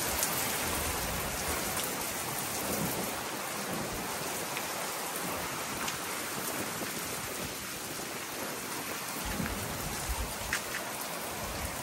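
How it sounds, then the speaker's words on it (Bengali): Heavy rain pours down continuously during an evening storm in France, a dense, even hiss of drops hitting surfaces, loud and close with no voices. "সন্ধ্যার সময়, অনেক বৃষ্টি হইতাছে।"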